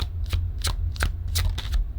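Tarot cards shuffled by hand in quick bursts, several crisp riffling flutters over a low steady background hum, close and moderately loud with no talking.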